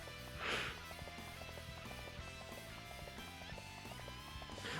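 Horse hooves gallop in the video game Dynasty Warriors 3, a steady rhythmic clip-clop running under busy game music and effects, with no talk.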